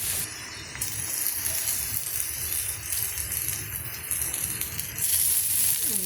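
Green masala paste sizzling and hissing in hot oil with onions in a pan, a steady, fairly loud frying crackle with small rattles, no voices.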